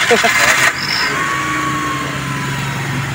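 Car engine starting and idling after acetylene welding repair of its exhaust pipe, a short loud burst of cranking at first, then a steady idle hum.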